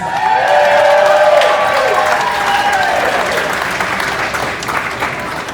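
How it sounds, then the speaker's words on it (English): Wedding guests applaud steadily with scattered cheers and whoops, loud and sustained throughout, filling a large room. "Make some noise for Thomas"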